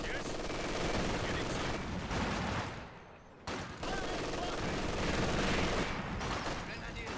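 Sustained small-arms and machine-gun fire rattles through a Company of Heroes 2 battle, loud and dense with a brief lull midway, mixed with in-game soldier voices.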